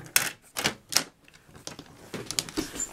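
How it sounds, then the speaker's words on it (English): A scoring tool presses crease lines into cardstock for a Christmas box card, making a few sharp, quiet clicks and scrapes close by, spaced unevenly. "we're going to score from the top down to this first score line at 3/4 of an inch"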